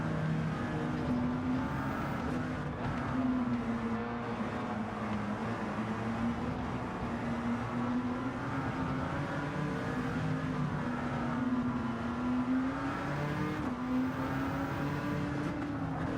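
A BMW McLaren racing car engine drones loudly and steadily throughout, its pitch dipping and rising slightly as it shifts down a gear, with no talk.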